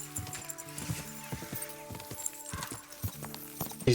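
Horse hooves clip-clop in Kingdom Come: Deliverance II, a steady run of hoof beats under tonal game music with occasional rustle.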